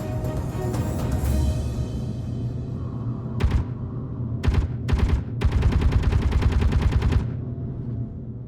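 A turret weapon firing in Space Engineers: several loud bursts of rapid gunfire, the last one long and sustained, over a steady low hum.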